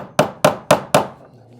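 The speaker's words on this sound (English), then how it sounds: "if I can sit there and hammer between my legs and get it together" Four evenly spaced hammer blows strike a wooden plank at an off-grid build site, each a sharp, close, loud knock with a short decay, followed by a quiet tail.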